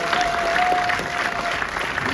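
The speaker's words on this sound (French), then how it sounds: "Applaudissez le titre" Brief applause from a film screening audience, a cinema crowd clapping in a dense, uneven patter, moderately loud with some murmuring voices mixed in.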